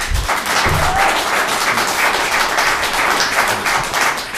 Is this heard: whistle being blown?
no